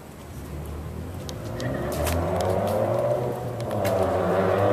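A Porsche accelerates on a town street, its engine note building steadily and growing louder over a few seconds, with faint clicks and background noise nearby.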